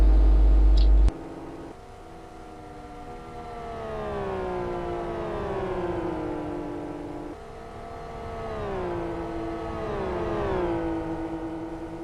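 Race cars in the simulator Live for Speed, one car slipstreaming another to make a pass, produce a sustained engine whine that glides up and down in pitch, with layered harmonics from several cars close together, loud and continuous without talk.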